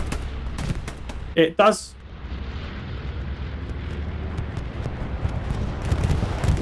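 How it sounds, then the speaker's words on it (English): Two quick heavy blasts of grenades or a bombing run in a Halo match, close and loud, then a constant low roar of battle noise. A voice speaks briefly. "Grenades coming. We're seeing a bombing run."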